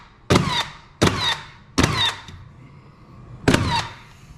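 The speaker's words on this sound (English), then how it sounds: "I'm just nailing this board on here." A nail gun fires into a trim board in four sharp, close, loud bangs, each with a short mechanical ring, spaced under a second apart with a longer pause before the last, and no voices.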